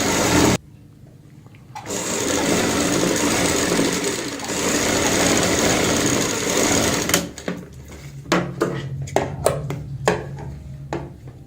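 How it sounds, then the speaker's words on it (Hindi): A sewing machine stitches through buckram in fast, continuous, loud runs that break off and then restart in short choppy bursts near the end. "बाहर की साइड यहाँ पे सिलाई लगा लेते हैं।"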